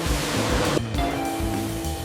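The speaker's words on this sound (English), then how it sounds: "Powerful water jets remove dust, soil, and surface impurities from every lemon." Powerful water jets spraying lemons inside an automated factory washing system, a loud, steady rushing hiss of water with a low mechanical hum underneath.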